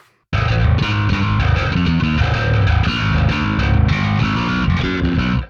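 After a brief silence, a heavily distorted electric bass plays a loud, continuous riff through a Fractal Audio FM9 Aggro preset with cab block on, a gritty, saturated tone.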